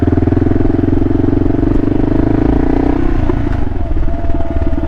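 Front suspension of a KLR650 motorcycle fitted with new Progressive fork springs being pumped up and down, producing a steady close clattering rumble that runs continuously and loudly throughout, with no voices.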